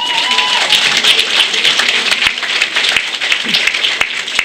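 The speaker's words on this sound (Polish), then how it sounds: "więc jeszcze wielkie brawa dla jury." Festive applause for the jury at a Szczawin village carnival evening, close and lively clapping with a few brief tonal sounds and murmurs mixed in.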